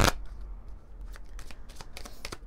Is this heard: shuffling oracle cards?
yes